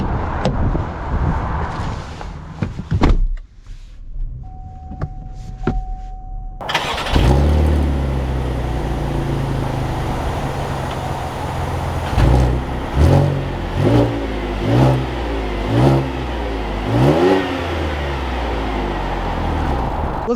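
A Chevy Traverse RS starts up and pulls away, its engine rising and falling through several acceleration surges, loud and close, with steady cabin road noise between them and no talk.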